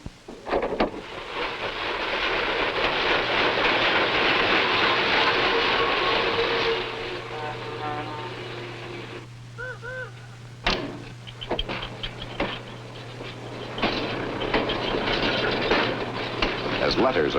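Freight trains rolling through a large railroad freight yard, a loud sustained rumble with metallic screeches, clanks and a long low tone, easing into scattered rail noises and clatter.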